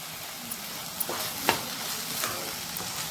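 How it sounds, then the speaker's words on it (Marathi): Chopped onions with turmeric and ginger-garlic paste fry over a low flame, giving a soft, steady sizzle. A few light clicks of a spoon stir through it, and there is no talking. "त्यानंतर दोन चमचे आले लसीची पेस्ट टाकून घेऊ"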